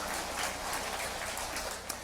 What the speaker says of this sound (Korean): 많은 분들이 이렇게 박수를 치는데